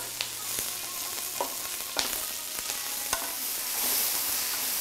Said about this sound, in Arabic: راح نضيفه للبصل، نحرك ونطبخه إلى أن يلين